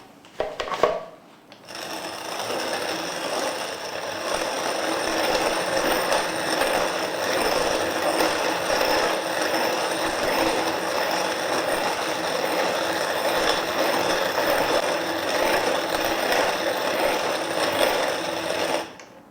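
A grain mill grinds malted barley for home-brewed beer, a steady rough grinding and rattling that runs almost unbroken for a long stretch after a short start.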